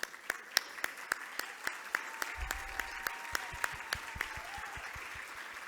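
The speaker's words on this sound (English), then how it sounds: "let's give them a round of applause" Scattered clapping at a dinner event as board members stand, distinct sharp claps in a loose, fairly steady rhythm, sparse and moderately distant with a faint murmur beneath.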